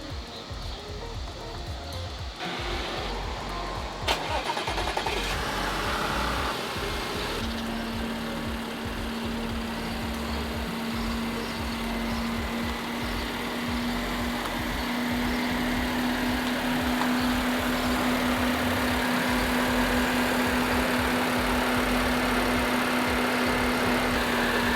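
A 2012 Audi S5 fitted with a new battery cranks and starts, then settles into a steady, even idle with a constant hum. The engine runs close and continuous for the rest of the stretch.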